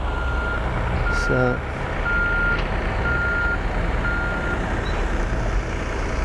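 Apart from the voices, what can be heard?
tractor reversing beeps while moving irrigation pipe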